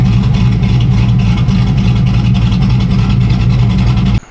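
An LS-swapped OBS Chevy truck engine with a fresh tune and added timing roars at full throttle, a loud, steady, close drone that holds for about four seconds before cutting off abruptly.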